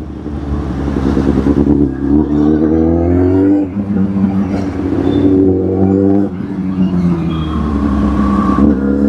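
A petrol car pulls away after refuelling, its engine droning loud and close with rising and falling revs as it gathers speed, steady throughout with brief dips between gear changes.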